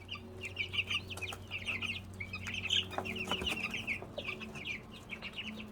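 Meat chickens at about two weeks old cluck and squabble as they establish a pecking order, with busy overlapping calls and squawks over a steady low hum throughout.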